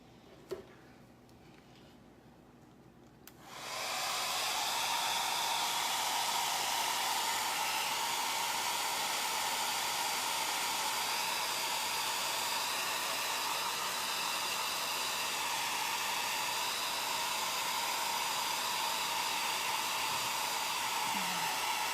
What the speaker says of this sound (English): I'm gonna use the blow dryer just so I can speed this along